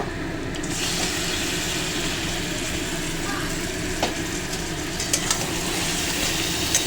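Mutton pieces frying in a pan with browned onions, a steady close sizzle with a few light crackles and utensil taps.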